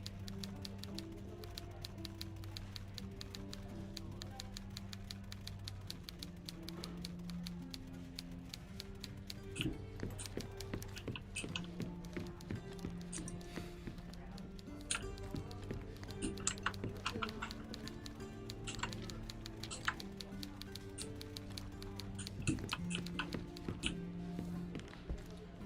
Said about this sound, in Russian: О, а то она печатает и сразу раз я подошел